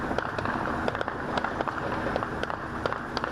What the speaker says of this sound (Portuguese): Os tiros não paravam.